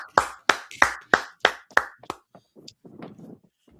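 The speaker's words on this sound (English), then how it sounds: "Clap it up." Audience claps in a brotherhood class, about seven sharp claps in a steady rhythm that thin out and fade into scattered faint taps and murmur.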